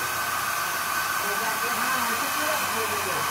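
A hair dryer blows steadily at its highest fan speed, a loud continuous whooshing hiss with a motor whine, running unbroken throughout.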